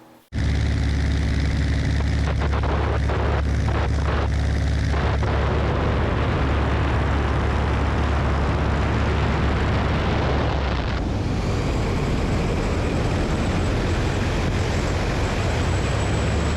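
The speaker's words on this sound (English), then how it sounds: "notice how you can hear the airflow changing over the wing" Airflow over a light airplane's wing during a spin roars as a loud, dense rush of wind and engine noise, shifting in character midway and then settling into a steady, slightly different roar.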